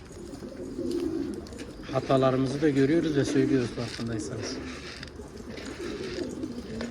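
Low, rounded coos of wild and stray pigeons rumble steadily beneath a man's speech in Turkish, with a few soft fluttery noises in the background.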